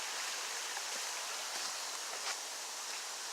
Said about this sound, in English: Nice cold, fresh spring water.